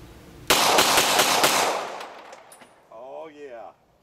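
A Smith & Wesson Governor revolver fires a rapid string of about five loud, close shots whose echoes fade quickly, followed by a short spoken remark.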